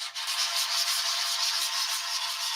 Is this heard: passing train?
no